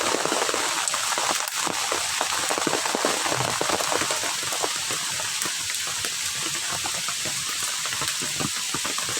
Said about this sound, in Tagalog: Hala, super lakas ng ulan guys.